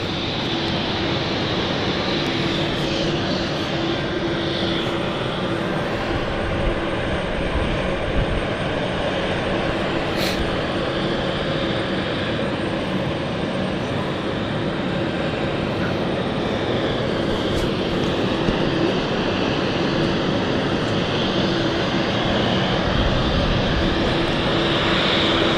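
A fixed-wing airliner at London City Airport throttles up for takeoff, a steady, broad engine roar with a faint whine that holds loud and continuous throughout, with no talk over it.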